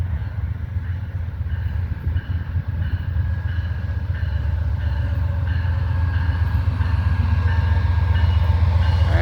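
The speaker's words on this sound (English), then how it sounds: "Looks like I got Amtrak 80 coming in northbound." An Amtrak passenger train pulls into Petersburg station northbound, a loud, continuous low rumble of the locomotive with rolling wheel noise and faint tonal squeal, building steadily in strength as it nears.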